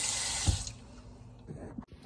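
Tap water pours loudly into a pot for cooking rice, a strong close rush that eases into quieter running and trickling with a brief clunk near the end.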